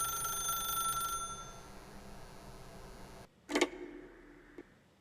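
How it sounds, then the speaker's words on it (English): An office telephone rings in the game The Stanley Parable, a trilling ring that cuts off and then gives a short, sharp burst near the end, over a faint hum. "pick up the phone"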